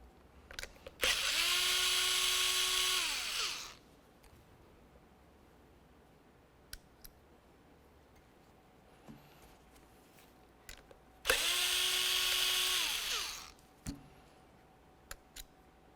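A power tool driving a 7mm socket on the mounting nuts of a 2005-2010 Chevrolet Cobalt heater blower motor, two loud whirring bursts of about three seconds each with small clicks and taps between them.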